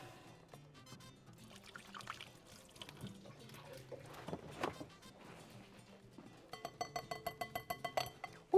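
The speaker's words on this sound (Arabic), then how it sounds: "نغسل الايادي" Hands washed under a running kitchen tap: soft continuous water flow with splashing and rubbing, ending in a quick series of rhythmic sputtering splashes, fairly faint and close.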